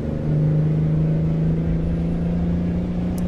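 A Kenworth W900A truck engine in American Truck Simulator drones steadily with a loud, continuous low rumble and a sustained humming tone, close and unbroken throughout, with no talking.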